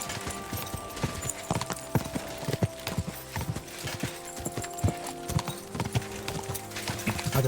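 Hooves clip-clop steadily in a fast galloping rhythm as a horse is ridden at speed in the video game Kingdom Come, with an occasional snort over a continuous ambient bed.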